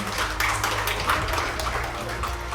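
An audience at a Korean Information Security Day ceremony claps to welcome national honour recipients: a steady, moderate patter of many hands over a low hum, continuous for the whole stretch.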